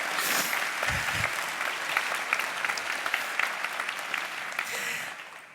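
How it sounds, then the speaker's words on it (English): The audience at the Drexel University Honors Medallion Ceremony breaks into sustained, full applause, with many hands clapping evenly through the whole stretch and a faint voice or two underneath. "You can clap."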